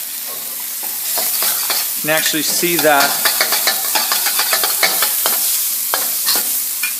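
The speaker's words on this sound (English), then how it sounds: "And while we're stir frying this up," Garlic and ginger stir-fried for fried rice, sizzling steadily in a hot pan with repeated scraping and tossing strokes of a spatula, close and loud, while a person talks over the cooking.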